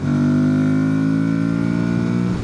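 A steady motorcycle engine drones at a constant pitch with muffled wind rush, loud and close, heard from inside a helmet with the visor fully closed while riding.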